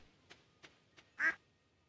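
A duck in the video game Stardew Valley gives one clear, fairly loud quack after three soft clicking steps, set against quiet game ambience.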